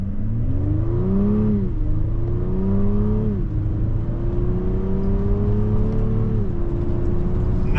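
A 2025 Honda Pilot V6 SUV in Sport mode accelerates under load, its engine note climbing steadily through several gears with smooth shifts of the 10-speed automatic, a continuous close and moderately loud drone with no speech.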